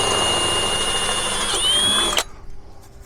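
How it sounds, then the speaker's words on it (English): A power drill bores an 8.5 mm hole for an awning anti-flap kit pin, a loud, steady whirring whine lasting about two seconds before cutting off abruptly, followed by faint clicks. "We drill just a little bit bigger."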